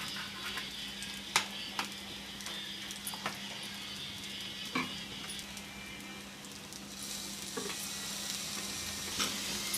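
Egg fried rice with vinegar and soy sauce sizzles steadily in a pan while a spatula stirs it, with scattered scrapes and taps over a constant fry hiss, close and fairly quiet.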